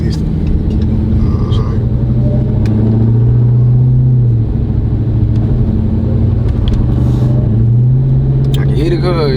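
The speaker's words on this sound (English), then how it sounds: "I can hear the car." A Dodge Hellcat Redeye rumbles steadily while driving, a loud low engine drone heard from inside the car with pitch rising and falling as it accelerates, under ongoing conversation between occupants.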